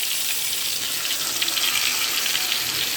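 Eggplants hit hot mustard oil in a pan, giving a steady, loud hiss and crackle of frying that holds evenly throughout.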